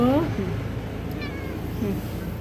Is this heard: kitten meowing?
yes